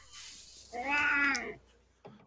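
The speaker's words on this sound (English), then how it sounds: "She's meowing at me." A pet cat gives one drawn-out, fairly loud meow close by, with a brief faint chirp after it in a quiet room.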